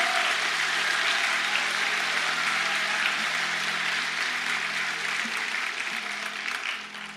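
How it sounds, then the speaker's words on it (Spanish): A church congregation applauding together, a dense, continuous wash of clapping held at even strength for several seconds before it thins out at the end, no voices over it. "Y si usted lo cree, déle ese fuerte aplauso al Señor."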